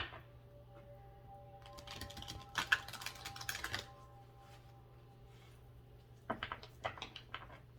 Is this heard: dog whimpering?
no